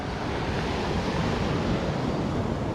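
Black Sea surf rolling onto a wild Bulgarian shore in February, a steady, loud broadband wash of breaking waves with wind buffeting the microphone, no voices.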